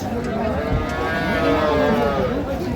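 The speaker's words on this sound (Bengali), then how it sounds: "গাভী বাছুর" A dairy cow at a cattle market in Raniganj, Dinajpur lets out a long, loud moo close by, with faint murmuring in the background.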